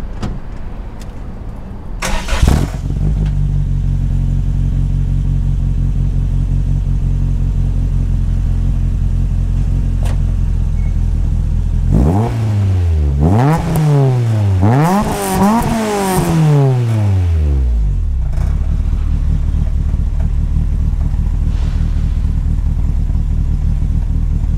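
Toyota AE86 fitted with a Martelius high output catback exhaust starts up and idles with a deep rumble, then blips the throttle in several sharp revs before settling back to a steady idle, close and loud.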